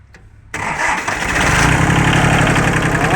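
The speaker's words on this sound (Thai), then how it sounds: "เครื่องยังไม่ร้อนครับ ต้องเหยียบมันเร่งช่วยนิดนึงครับ เสียงเครื่องปกติครับ" A Kubota engine cranks briefly after a short near-silence, catches at once and settles into a loud, steady idle with a rapid throbbing chug close by.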